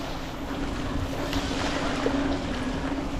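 Continuous rushing water on a rainy day beside a farm-to-market road, a broad, steady wash of noise and some wind buffeting, no voices.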